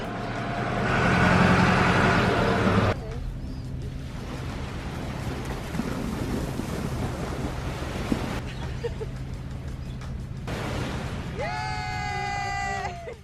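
Waves rolling onto a beach in Malaga on a morning, a steady broadband wash of surf with wind buffeting the microphone, louder at first then settling, with a brief high-pitched tonal sound near the end.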